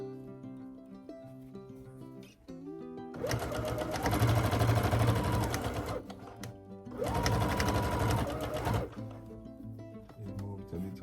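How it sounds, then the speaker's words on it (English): A sewing machine stitches a quilt block for a jigsaw quilt, running in two loud sustained bursts of rapid mechanical whirring separated by a short pause, with quiet background sound before and after. "Don't want to break the needle, break the sewing machine."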